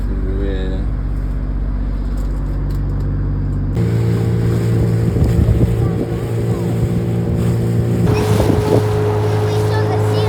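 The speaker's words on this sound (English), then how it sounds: "we've got the heater running and the engine running to power the heater" The engine aboard a 37ft catamaran runs steadily to power the heater, a loud, constant droning hum with a shift in tone partway through.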